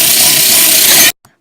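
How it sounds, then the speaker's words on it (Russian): An electric mixer whisks an egg mixture with added starch, giving a loud, dense whirring buzz for about a second before it cuts off sharply into near silence. "Добавляем крахмал и тщательно начинаем взбивать около минуты"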